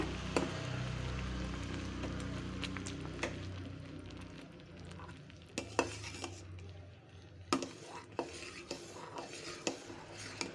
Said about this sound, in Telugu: ఇది కలుపుతూనే ఉండాలండి మనము లేకపోతే ఉండలు అడగంటుతుంది